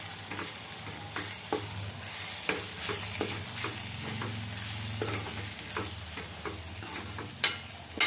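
Crushed ganthiya and peanuts are stirred into masala in a pan, with repeated spoon scrapes and knocks against the metal over a soft frying sizzle, close and unhurried, with no talking.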